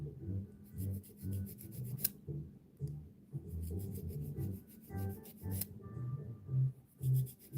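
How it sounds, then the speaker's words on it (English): A nail file rubs along the sides of a fingernail in short, rhythmic strokes, close and quiet, with small pauses between passes. "then place my file in this angle, then just slightly sand or file the sides"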